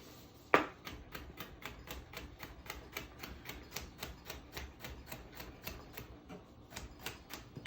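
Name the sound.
knife dicing cucumber on a cutting board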